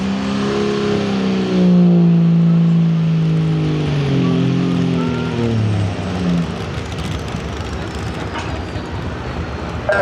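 A street diesel 4x4 truck at a drag strip revs hard, its engine note climbing and falling in loud harmonic sweeps before settling into a rougher, fading drone, heard alone at close range.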